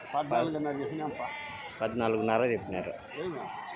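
Sheep bleat in wavering calls at a weekly livestock market near Madanapalle, mingled with people talking nearby in a lively exchange over prices.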